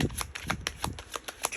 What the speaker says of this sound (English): One more shuffle through.